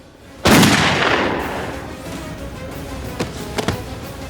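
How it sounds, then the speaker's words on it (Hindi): A single loud gunshot cracks out and its echo decays slowly, followed by a couple of fainter clicks. "तभी जस्सी उसे रोकने के लिए उस पर गोली चलाता है।"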